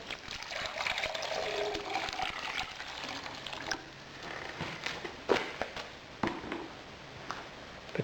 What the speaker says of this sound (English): We'll tip some more water in it.